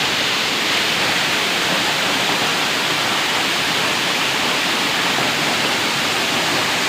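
The Reje Ilang waterfall in Bener Meriah, Aceh, roars in a loud, dense, unbroken rush of falling water, close by and steady throughout.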